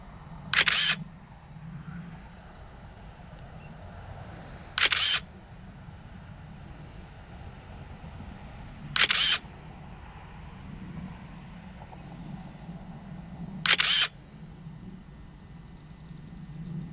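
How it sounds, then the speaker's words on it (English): Four synthetic camera shutter clicks from Hangar 360 drone-mapping software, evenly spaced about every four seconds, short and crisp over a low steady background hum. "You gotta love the fake camera sound."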